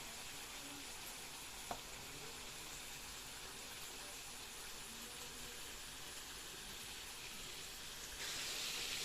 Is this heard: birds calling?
no